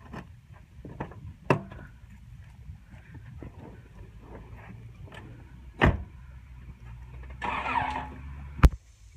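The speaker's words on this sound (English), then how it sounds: "Watch as he gets into his Honda Accord." Someone gets into a Honda Accord: scattered clicks and sharp thumps from the door, then a brief whirring burst as the engine cranks and starts, all fairly quiet.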